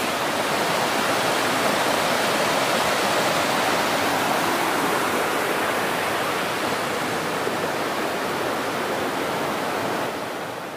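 Bear Creek, a stream along the Pacific Crest Trail, rushes in a steady, broadband roar of flowing water, close and constant with no voices, easing slightly at the end.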